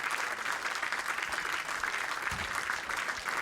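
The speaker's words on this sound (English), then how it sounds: "the crowd erupt after that" Crowd bursting into steady, dense applause at an international open championship match, sustained and loud throughout with no pause.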